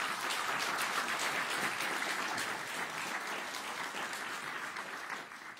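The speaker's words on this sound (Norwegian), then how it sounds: "Liten applaus." An audience at a panel event on the climate and nature crises gives a brief round of applause, a dense, steady wash of clapping that holds throughout and tapers slightly at the end.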